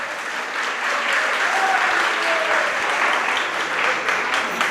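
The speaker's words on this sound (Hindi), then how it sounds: "ताली बजाने से कुछ नहीं होगा" An audience applauds loudly and steadily throughout at a Jain religious sermon.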